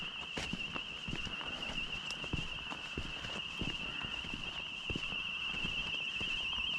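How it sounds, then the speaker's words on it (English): An alarm rings out continuously in a village by a riverside walk near Caledon, a steady high-pitched tone carrying through the whole stretch with scattered footsteps and outdoor knocks beneath it. "There's an alarm going off."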